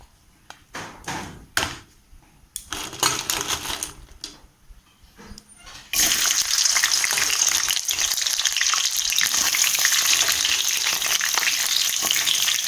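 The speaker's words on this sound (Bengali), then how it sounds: "তেলটা গরম হয়ে গেছে, দিয়ে দেবো মাছগুলো এবার।" Crabs dropped into hot oil for a spicy Bengali crab curry: scattered clatter and bursts at first, then a loud, continuous close frying sizzle that holds steadily to the end.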